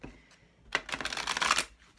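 A deck of tarot cards is shuffled by hand, first with a short light riffle and then a dense, crisp run of rapid flutters lasting about a second, close to the microphone and with no talk over it.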